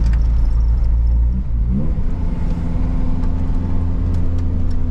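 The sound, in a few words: car engine running, warming up to operating temperature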